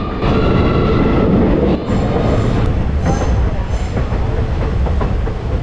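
A passenger train runs along the Kollam–Tenkasi railway line, its steady loud rumble and rattling wheels continuous throughout, with a brief dip before the noise resumes.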